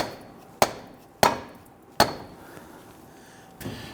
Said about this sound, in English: use a rubber mallet and I strike the end of my axle here to go ahead and pop that in